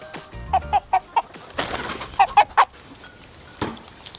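Poultry, a turkey being caught, gives a run of sharp clucks and squawks in quick bursts, with scuffling and wing flapping between them, close by.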